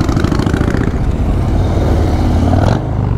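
Harley-Davidson motorcycle engine running loud and close at low speed while hunting for parking at a crowded Harley meeting in Hattingen, a continuous throbbing rumble that briefly swells near the end.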